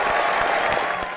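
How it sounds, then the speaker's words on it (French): A brief burst of dense audience applause greeting a guest at a live talk event, loud and continuous through the short moment. "Un tonnerre d'applaudissements s'il vous plaît pour Médéric."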